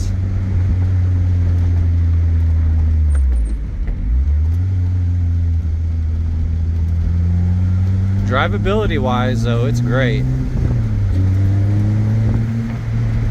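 A 2005 Lotus Elise in custom pink paint drives along at about 40, its engine note rising through the gears and dipping at each shift, steady and close. Someone talks over it.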